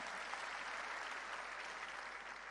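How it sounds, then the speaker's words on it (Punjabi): A crowd at a Punjab political rally claps loudly for Kejriwal, a dense, steady wash of many hands that holds at full strength for the whole stretch, with no voices over it. "ਇੱਕ ਵਾਰ ਜ਼ੋਰਦਾਰ ਤਾੜੀਆਂ ਮਾਰੋ"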